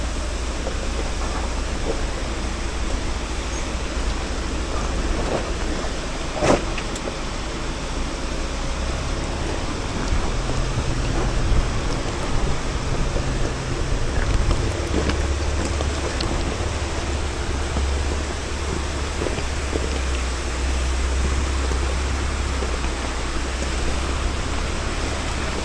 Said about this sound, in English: Water running.